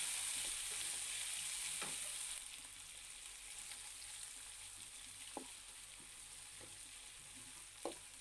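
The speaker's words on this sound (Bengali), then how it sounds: "আমি চিংড়িগুলো দিয়ে দিলাম। চিংড়িটা দিয়ে একটু ভেজে নেব।" Prawns frying in a pan with onions: a steady, quiet sizzle throughout, with a brighter hiss early on and a few soft clicks of stirring.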